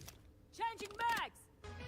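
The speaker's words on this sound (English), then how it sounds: "Changing mags." Changing magazines on a weapon in Call of Duty Warzone gives a quick pair of close metallic clicks and slides. A voice speaks briefly around the mechanical sounds.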